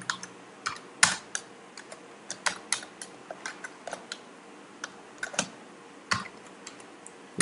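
Typing on a computer keyboard while writing Node.js code: a quiet, irregular run of close key clicks and taps with short pauses, heard alone without talk.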